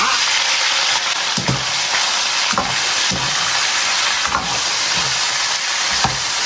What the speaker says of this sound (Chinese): 牛蛙上面给它拍点淀粉， 锅中多加油，油热下入牛蛙，